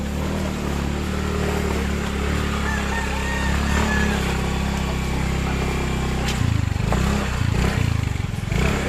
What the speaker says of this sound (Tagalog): yung motor niya hindi maakyat sa taas